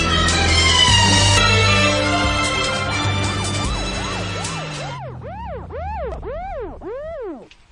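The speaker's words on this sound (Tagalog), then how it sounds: "dunay sakyan na sa pulis nga mihunong" A police car siren wails close by in loud, repeated rising-and-falling sweeps over engine and traffic rumble, the siren growing clearer and more prominent toward the end as the vehicle stops nearby.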